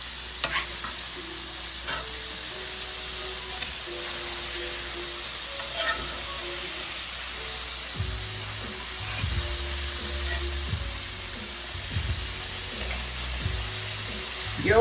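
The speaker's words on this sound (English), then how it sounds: "while I'm still frying my chicken." Chicken for orange chicken sizzles and spits in a crowded skillet, a constant crackling hiss with scraping stirs and clinks from utensils moving the pieces around.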